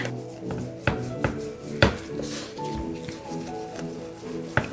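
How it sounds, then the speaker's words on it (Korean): Soft, irregular thuds of a wooden mallet gently pounding deodeok root on a board in a kitchen, a handful of separate knocks with rubbing in between. "바닥을 방망이로 살살 잘 두드려 주시면 되고요"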